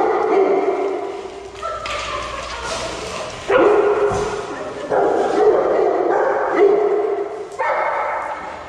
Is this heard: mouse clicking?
no